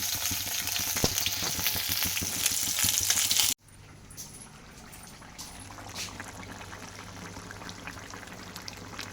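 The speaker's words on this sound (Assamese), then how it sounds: "এইফালে মোৰ খানা ৰেডি হৈছে আৰু মাছ ফ্ৰাই কৰিছোঁ" Fish sizzles and spits in hot oil in a pan in a home kitchen, loud and close at first, then dropping to a quieter steady frying hiss for the rest of the clip.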